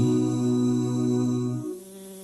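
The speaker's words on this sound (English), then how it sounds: "Yellow pink flowers with a buzzing bee." Buzzing of a bee among yellow and pink flowers, a steady, loud drone close by that holds for about a second and a half, then drops away to a fainter hum.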